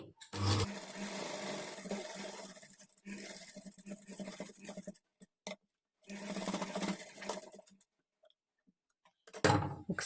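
An electric sewing machine stitching a princess-cut blouse runs in close, steady whirring bursts, halting briefly and restarting several times, with clicks in the pauses and no voices.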